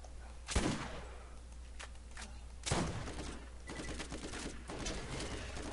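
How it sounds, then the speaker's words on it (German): Gunfire from shooting enemies in the video game Borderlands, a few sharp shots spaced a couple of seconds apart over a low steady hum and scattered quieter game noises, moderately faint. "Aber ich schieße die gerade ein bisschen ab."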